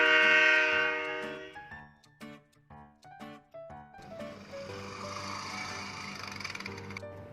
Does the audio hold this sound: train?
yes